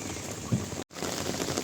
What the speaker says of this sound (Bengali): এত বৃষ্টি হচ্ছে আজকে